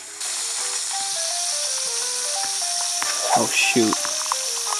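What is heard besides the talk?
fries cooking in a pan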